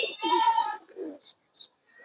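A pigeon gives a few short, bright calls in quick succession, close by, separated by brief pauses.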